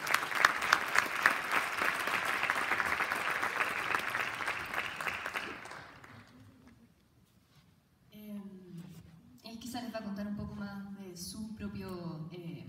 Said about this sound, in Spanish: Un aplauso para Or.